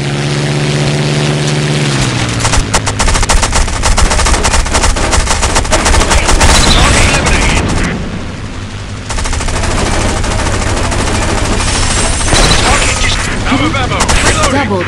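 Heavy automatic gunfire in the aerial combat game War Wings, rapid dense bursts rattling almost continuously over a droning aircraft engine, loud and close, with one short dip before the firing resumes.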